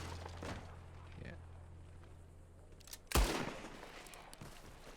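A single loud gunshot in a cowboy video game cracks out near the middle, standing sharply above a low hum and faint background, while someone talks quietly before it.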